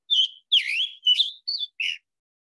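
A Scarlet Tanager gives five short, hoarse whistled calls with brief gaps between them, clear and close against silence.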